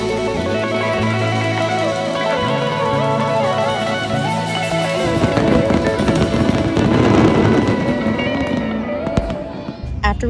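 Fireworks bursting in a dense, continuous barrage of crackles and pops, loud and close, with a steady tonal hum underneath early on.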